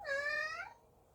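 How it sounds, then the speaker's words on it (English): A house cat gives a single clear, drawn-out meow lasting under a second, close and fairly loud, then fades into quiet room tone. "And that is my cat joining, echoing this poem."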